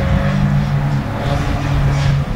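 A Ford Sapphire Cosworth rally car on a stage at Cadwell Park roars loudly and close as it drives past, the engine note holding steady throughout.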